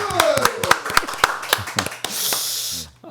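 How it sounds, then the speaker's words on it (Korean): Several people clap in brisk, close bursts to welcome a guest onto a Korean political talk show, the applause loud and uneven, then trailing off into a brief rustle. "박수로 환영하겠습니다"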